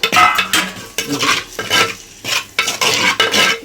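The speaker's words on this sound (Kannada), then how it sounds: "ಟೊಮೆಟೊ ಈರುಳ್ಳಿ ಹಾಕಬೇಕು ಇದನ್ನು ಹಾಕಿ ಚೆನ್ನಾಗಿ ಫ್ರೈ ಮಾಡಬೇಕು" Chopped tomato and onion frying in a pan over a wood-fired stove, with rhythmic bursts of stirring and scraping by a utensil over a soft sizzle, loud and close.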